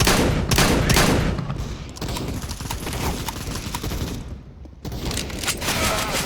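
Bursts of rapid gunfire ring out during a round of the video game CS:GO, loud repeated shots layered with game noise, and players talk over the action.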